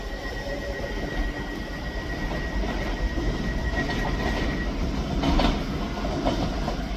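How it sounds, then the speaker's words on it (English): Scotrail class 385 electric train, unit 385005, running through Edinburgh Haymarket station, a steady continuous rumble and rolling roar with a faint sustained whine, swelling slightly louder near the end, no voices. "the 1025 Scotrail service from Edinburgh Waverley to Glasgow Central. 385005."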